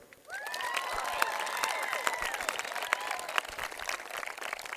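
Applause and cheering at a high school graduation ceremony for the class of 2019, with steady dense clapping, sharp individual claps, and high whoops and whistles scattered throughout, moderately loud.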